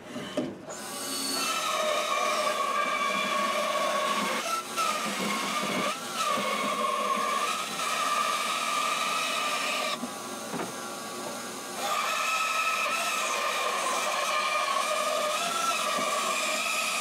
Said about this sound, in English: the first thing we're going to do is use our bandsaw.